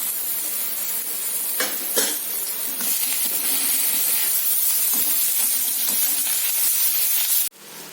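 Carrot pieces, curry leaves and a pinch of turmeric cook in a hot pan for idli pulihora, giving a loud, steady hiss of sizzling with a few faint stirring knocks before the noise drops abruptly near the end.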